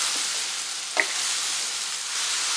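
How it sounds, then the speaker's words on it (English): Mushrooms sauté at high heat in butter and oil, giving a steady, even sizzle throughout, broken once by a brief utensil clink near the start. "Continue to saute at high heat until the mushrooms are golden brown"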